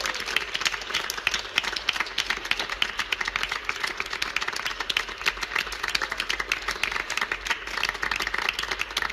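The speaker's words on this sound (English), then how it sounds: "Please give him a very, very warm round of applause because he's coming, Manel Navarro." Audience applause at a Eurovision 2017 press conference in Kiev, a dense, steady clapping from a room full of people that holds strong for the full stretch, with no talk over it.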